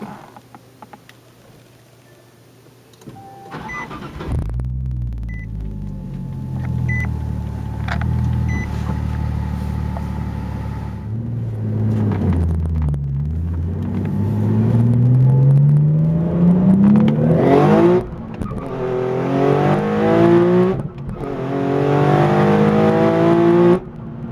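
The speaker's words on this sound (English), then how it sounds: "Go ahead, I'm going to start it up and take you guys for a quick spin." A twin-turbo Nissan 370Z built by Titan Motorsports cranks and fires after a few quiet seconds, settles into a deep idle, then revs repeatedly with rising, loud exhaust pulls close by.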